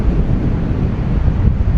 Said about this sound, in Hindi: हवा, विंड ब्लास्ट बहुत ज़्यादा है